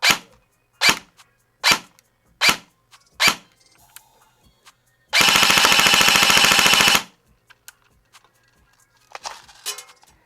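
A Diamondback DB15 Honey Badger PDW airsoft electric rifle fires five sharp single shots at an even pace, then a loud buzzing full-auto burst of about two seconds, followed by quiet with faint clicks.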